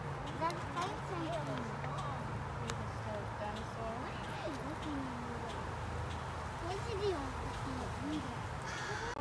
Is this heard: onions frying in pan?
no